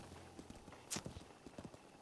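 A horse's hooves clip-clop in Zelda Breath of the Wild, a quick steady run of soft hoofbeats with a brief sharper clack partway through, faint and without talk.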